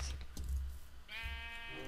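A sheep in the video game Minecraft gives a single short, faint bleat at the end of a brief quiet moment.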